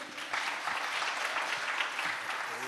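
An audience at a leadership conference applauds, a dense, sustained burst of many hands clapping that carries on steadily for a few seconds without a break.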